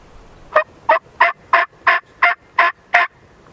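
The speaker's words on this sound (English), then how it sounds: "We got some gobbling pretty far away" A wild turkey gobbles during a windy Kansas hunt, giving eight evenly spaced, sharp calls in quick succession that stand out clearly over quiet background.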